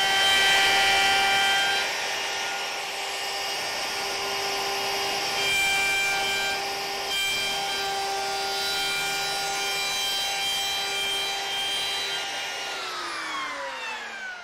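A saw cuts steadily through a maple workpiece clamped against a backer block, making a loud, continuous whine and rasp that holds for the whole stretch, then drops in pitch as the blade slows at the end.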